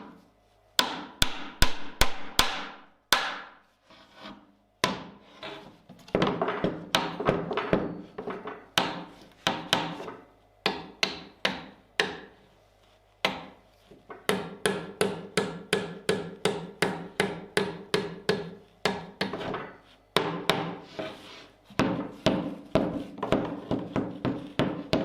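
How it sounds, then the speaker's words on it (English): Steel strap band on a large round shield being hammered flush over an anvil, dozens of sharp, ringing metallic blows in quick bursts with brief pauses, close and loud with no talk. "then just hammering it flush with the backside of the strap band"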